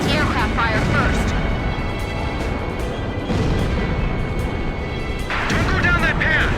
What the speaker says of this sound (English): We have to suppress the anti-aircraft fire first.